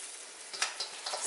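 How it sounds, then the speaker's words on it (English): Shrimp, mussels and calamari from a frozen seafood bag hit a hot paella pan, giving a short burst of close sizzling with a few louder crackling flare-ups. "Now I'm going to add my seafood."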